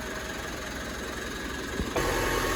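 Running 2018 Mitsubishi MQ Triton engine with a failing turbo and a suspected boost leak, giving a steady close idle hum with a thin whine, and the level swells slightly near the end.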